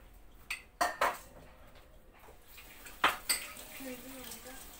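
Dishes and cutlery clatter in a home kitchen during baking, several sharp clinks and knocks at irregular intervals, with a person speaking quietly in between.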